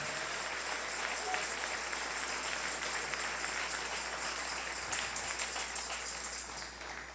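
A church congregation applauds during a morning worship service, producing dense, continuous clapping that fills the room at an even level for several seconds and fades slightly at the end.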